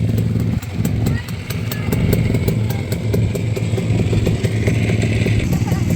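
A pit bike motorcycle engine runs loud and close, a steady rough idle with rhythmic clattering throughout, while voices talk over it.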